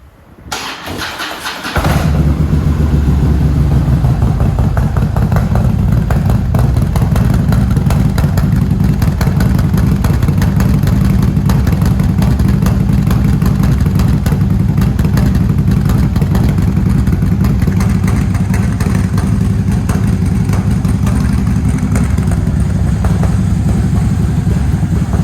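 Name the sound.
2010 Harley-Davidson Road Glide motorcycle engine running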